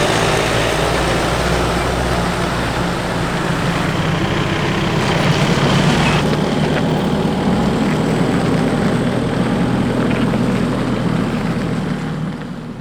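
Loud, steady engine drone and rumble from a 4x4 driving off and pulling away on a dirt road near Coffs Harbour and Grafton. It continues without pause and eases off slightly at the end.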